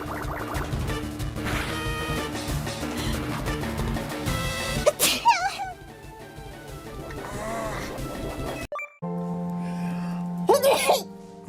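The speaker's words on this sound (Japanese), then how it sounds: "あ、くしゃみです。" Several sneezes from different people come in bursts, some sharp and loud, with voices talking and reacting around them and a few quieter stretches between.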